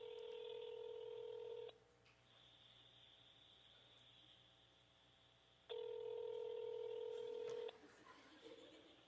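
Loud, close push-button tones from a telephone as a number is dialed: two long sustained beeps separated by a quiet gap, with faint talking in the background.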